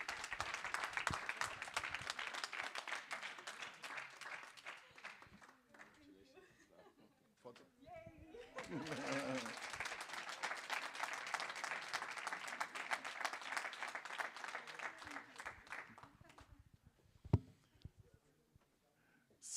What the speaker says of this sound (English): An applause for Paloma.